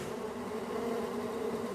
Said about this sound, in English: That's an awful lot of bees.